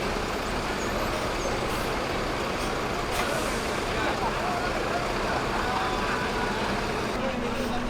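Sinar Dempo intercity bus bound for Pagar Alam, reversing slowly at a terminal, its steady diesel rumble loud and continuous with traffic noise around and a brief air-brake hiss.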